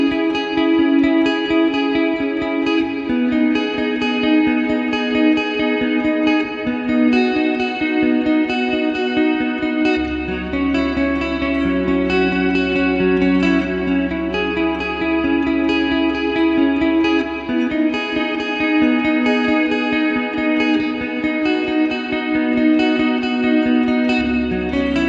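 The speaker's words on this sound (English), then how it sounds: "This is the Amped Gemini plugin with the Arturia reverb. I'm going to use the split neck pickup for this." Electric guitar on its split neck pickup, run through the Amped Gemini plugin with Arturia reverb, played on a Balaguer Synthwave Espada: sustained chords ring out alone with a washy reverb tail, changing roughly every few seconds.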